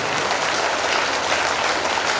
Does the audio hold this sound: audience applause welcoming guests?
yes